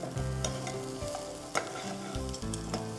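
Small onions fry and are stirred in a pan in a studio cooking show, giving a steady sizzle broken by scraping strokes of the spoon, close and clear with no talk.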